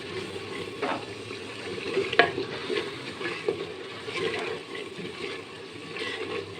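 Spices and tomatoes fry for aloo keema in a handi, giving a steady close sizzle with occasional stirring clinks and scrapes, no voices.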